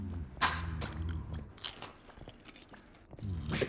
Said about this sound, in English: That was a nice crunch.